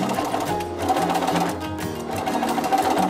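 Sewing machine running a back stitch on fabric while ruffle sleeves are made, a steady close whirring mechanical rattle that fills the whole stretch without pause.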